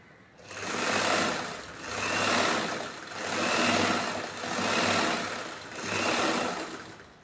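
A sewing machine stitches a chudithar bottom in five rhythmic runs, each swelling and fading with short pauses between, a close mechanical whirr with no talk.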